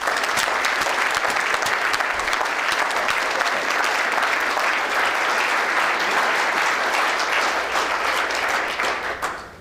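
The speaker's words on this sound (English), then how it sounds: "give them another round of applause" Sustained applause from an audience at a city's State of the City address fills the room, dense and steady for about ten seconds before tapering off at the end.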